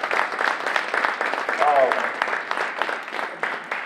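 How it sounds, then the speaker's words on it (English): Applause from a crowd at a Youth for Truth evening event honoring the speakers, steady broadband clapping throughout with voices mixed in underneath. "Can y'all give a round of applause for all the speakers one more time?"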